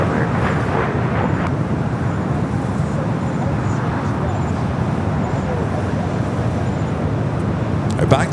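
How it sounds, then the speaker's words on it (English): An airliner departs LAX runway 25 right, a steady, broad jet roar that holds at an even level throughout with no clear rise or fade. "One of the departures from the north side, runway 25 right at Foxtrot line of flight"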